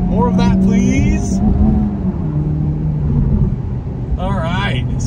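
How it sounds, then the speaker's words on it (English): A 2023 Honda Civic Type R engine rumbles and pulls with rising revs, heard from inside the cabin while someone talks over it in short bursts. "there is a quick pull in the Honda Type R. You can hear as it gets up there."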